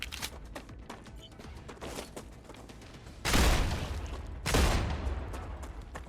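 Enemies fire in Star Rupture with a patter of faint rapid shots, then two loud sustained bursts of heavy gunfire roar up close.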